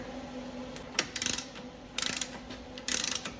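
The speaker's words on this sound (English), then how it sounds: "Now we're going to torque the axle nut to 220 foot-pounds." A wrench ratchets in three short clicking bursts while torquing the axle nut on a Ford Escape 3.0, close and crisp over a quiet workshop background.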